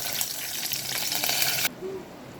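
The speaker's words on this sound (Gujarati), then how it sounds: "હવે આપણું તેલ ગરમ થઈ ગયું છે। આપણે એમાં નાખીશું રાઈ, નાખીશું જીરું।" Mustard seeds and cumin hit hot oil in a pan for a Kathiyawadi kadhi tempering, making a loud, bright crackling sizzle that stops abruptly, leaving a faint low hiss.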